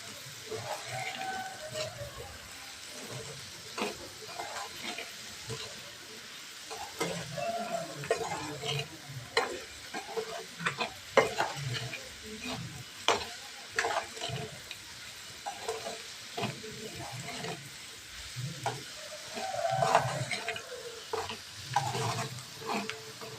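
A spoon stirs potato fry dusted with garam masala in a pan, giving a steady run of soft scraping and clinking strokes over a faint sizzle, moderately close, with no talking.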